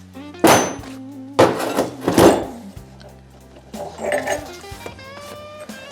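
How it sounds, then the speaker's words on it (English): A steel chisel is struck with a hammer to split a retaining ring off a shaft on a 1964 Chevrolet Biscayne, giving three or four loud, ringing metallic blows spaced about a second apart, followed by quieter clinks and scraping. "I cut close enough that I was able to break that with a chisel and it slides right off"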